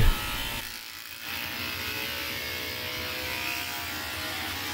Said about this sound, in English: And with that, it's time to shave the rug